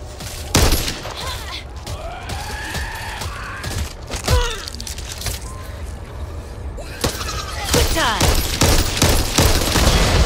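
Gunfire from the zombie shooter Back 4 Blood: bursts of rapid shots and heavy blasts spread across the scene, denser near the end, mixed with groans and game effects under occasional voices.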